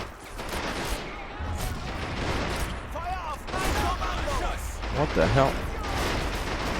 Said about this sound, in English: Oh, damn, there's a machine gun on the other side.